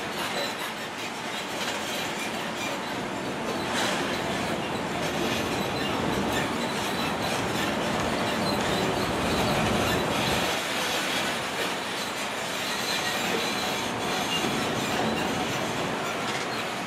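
Disneyland Resort parking tram rolling along with a steady, loud rumble of wheels and rail-like clatter, occasional squeals, continuous throughout with no talking.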